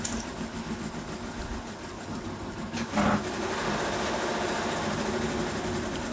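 A sewing machine stitching a school uniform collar, a steady mechanical whirring hum running for several seconds with a brief louder clunk midway, close and alone without talk.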